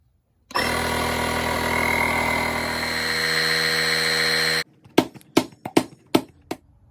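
A CAT portable jump starter's built-in air compressor runs loud and close with a steady buzzing drone for about four seconds, then stops abruptly, followed by several sharp clicks or knocks.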